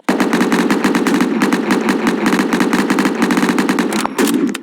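Rapid automatic gunfire in a shooter video game, loud and continuous bursts of shots hammering in fast rhythm, with a brief break just before the end.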